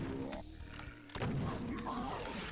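Super shotgun blasts fired at close range against a mancubus in Doom II, a booming shot with a heavy crash mixed into dense game noise and a continuous rumbling background.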